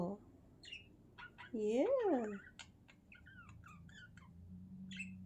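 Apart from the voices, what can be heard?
seagull calling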